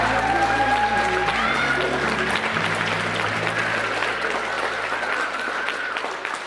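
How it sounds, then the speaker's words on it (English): Wedding guests applaud the bridegrooms with dense, sustained clapping that holds steady and loud throughout, a few faint tones ringing over it early on. "Round of applause for our bridegrooms,"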